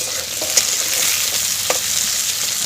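Loud, close sizzle of sukto vegetables frying in a pan, with light stirring scrapes and a couple of sharp clinks over a continuous hiss.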